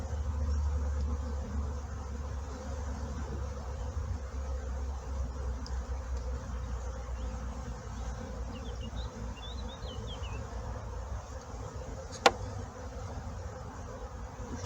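Honey bees buzz steadily around an open hive during queen rearing, a dense continuous hum that stays close and even throughout, with one brief sharp click near the end.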